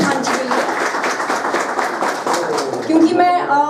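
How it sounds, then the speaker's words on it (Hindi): A village gathering applauds the village head during an MLA's panchayat visit in Chamba, with close, sustained clapping, a few voices mixed in and bird chirps rising near the end. "तो एक बार प्रधान जी के लिए भी तालियां"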